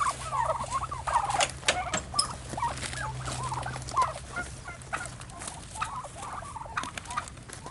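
Many turkeys in their rearing pens keep up a dense flock chatter of chirps, peeps and gobbling calls, with a steady low hum underneath.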